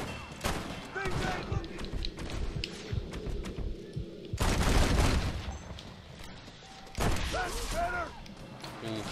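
Gunfire in the Western video game Red Dead Redemption during a big shootout, heard as a dense run of shots with heavy blasts near the middle, mixed with game effects and people talking over it.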